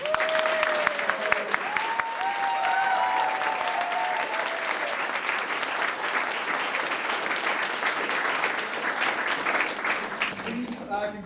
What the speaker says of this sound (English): Ladies and gentlemen, one last round of applause.